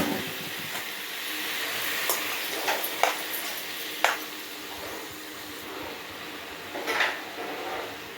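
Half a kilo of tomatoes sautés in a pan for a Tirunelveli-style tomato kootu, a soft steady sizzle with occasional sharper clinks of a utensil against the pan, close and fairly quiet.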